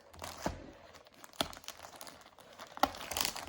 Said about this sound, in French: Donc, on va déjà déballer